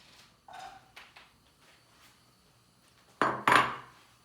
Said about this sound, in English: We're gonna throw in our vegetables.